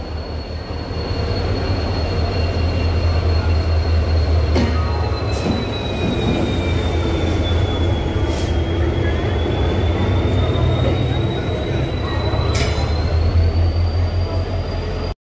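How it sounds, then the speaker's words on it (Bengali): A train hauled by a WDG diesel locomotive rolls past near Purulia with a loud, continuous rumble of wagons, a long high wheel squeal gliding up and down, and occasional sharp clanks. "দেখুন, WDG লোকোমোটিভ এটিকে নিয়ে আসছে।"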